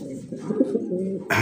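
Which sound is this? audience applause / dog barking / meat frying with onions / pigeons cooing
pigeons cooing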